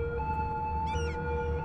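A police siren wails in the city-builder game Cities Skylines, steady tonal pitches held over low traffic rumble, with a brief higher warble partway through.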